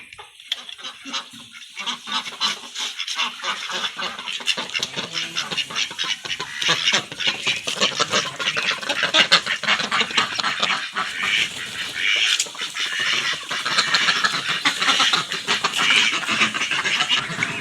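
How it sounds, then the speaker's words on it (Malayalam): A crowd of ducks in a duck coop quacks and honks continuously at close range, the dense chatter building and staying loud throughout. "ഇതാണെങ്കിൽ താറാവ് കൂട്"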